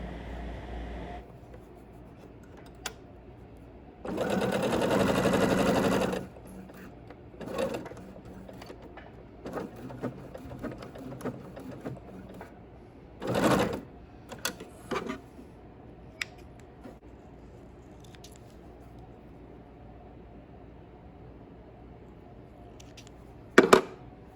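A sewing machine stitches a little girl's prairie bonnet in two short, loud runs of whirring stitching, separated by quiet rustling and handling of fabric, with no voices.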